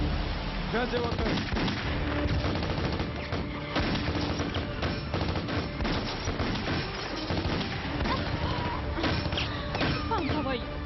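Gunfire crackles in a staged drama shootout, rapid dense shots and bangs running continuously throughout under shouted voices and loud action mixing.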